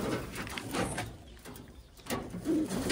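Pigeons, blue bar birds, coo softly in a few low, rolling calls, fairly faint against light background noise, with no talk over them.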